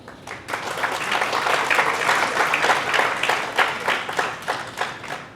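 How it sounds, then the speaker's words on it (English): A live audience at a programming talk bursts into loud applause, with dense, rapid clapping that swells and keeps going throughout, close and full, with no talk over it. "Give yourselves a loud round of applause, please."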